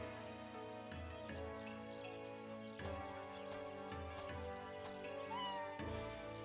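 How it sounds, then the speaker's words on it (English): A cat meows in the video game InuYasha: The Cursed Mask, a few short game-voice cries set over continuous tonal background music. "Cat go meow."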